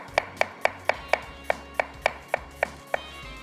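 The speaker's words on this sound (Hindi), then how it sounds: "आखिरी प्याज रह गई है, इसको भी स्लाइस कर लेते हैं।" A knife slices through the last onion on a board, about a dozen crisp, evenly spaced cuts in a steady rhythm, close and clear with nothing else heard.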